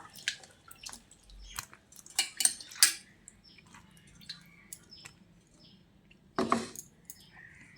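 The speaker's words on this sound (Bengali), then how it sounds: "এই জলের মধ্যে করলাগুলো দিয়ে ভালো করে এটাকে আরও একবার ধুয়ে নেব" Cut bitter gourds being washed by hand in a bowl of water, with irregular sloshes, splashes and light clinks against the bowl, close and fairly quiet, without talk.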